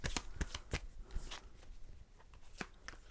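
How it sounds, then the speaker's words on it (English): Tarot cards are shuffled by hand in a few quick, crisp riffling bursts, close and fairly quiet. "I'm going to have to shuffle again."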